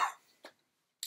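A person coughs once with a wet, phlegmy catch, followed by a short throat-clearing burst and the start of another, all brief and close to the microphone in otherwise quiet surroundings.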